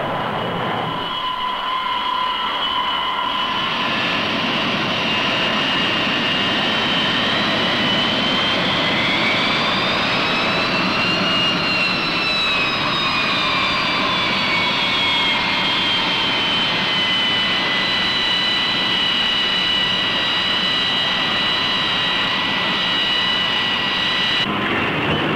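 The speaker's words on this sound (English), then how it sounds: "The approach of the carrier onboard delivery plane is a welcome sight" Carrier onboard delivery plane approaching an aircraft carrier at sea in the Vietnam era, its engine roar droning steadily and swelling in pitch as it passes, loud and continuous with no talk.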